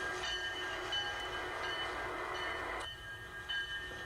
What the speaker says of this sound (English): The first train was already being shunted by the time I got back. It's a GP7 diesel.